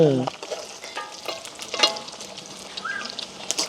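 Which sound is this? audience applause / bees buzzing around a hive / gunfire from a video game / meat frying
meat frying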